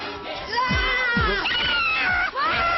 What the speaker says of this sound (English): I guess I'm screaming more this week because we're doing harder stuff than I've done before